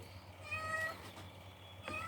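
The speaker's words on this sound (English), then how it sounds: "Oh, kitty." A cat meows a few times outdoors near a temple in Dharamkot, moderately close with soft background noise and no talking during the calls.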